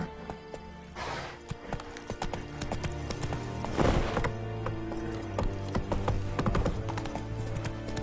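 Roach the horse in The Witcher 3 video game trots with steady, close clip-clopping hooves, layered with mechanical clanks and rattles and a continuous game ambience underneath.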